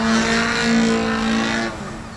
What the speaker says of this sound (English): Throw it into a knife edge spin.